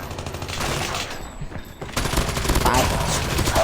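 Rapid PDW-57 submachine gun fire in the mobile shooter Call of Duty Mobile, a dense continuous rattle of bursts that briefly drops out midway, then resumes louder amid game noise.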